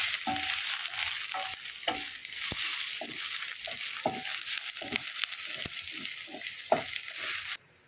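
Ginger, garlic and curry leaves sizzle in hot oil for a roadside-style mushroom fry while a spoon scrapes and stirs the pan in steady, repeated strokes, close and continuous with no talking.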